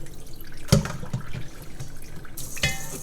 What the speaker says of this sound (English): So I put the radish into a colander, and I'm gonna dump out this salty,